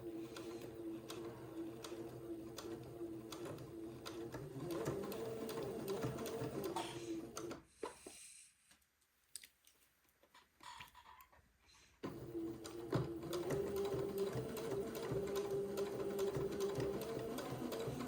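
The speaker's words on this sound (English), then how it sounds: "Go back and forth a couple of stitches right there at the beginning." A sewing machine stitches a seam on a smocked day gown, running steadily and close for several seconds, stopping briefly, then resuming its even whirring hum.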